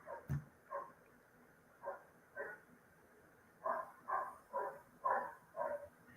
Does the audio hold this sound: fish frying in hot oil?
no